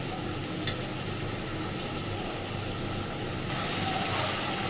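Spice paste fries in hot oil for a puti fish curry, giving a steady, low, even sizzle with no voices, plus one faint brief tick early on.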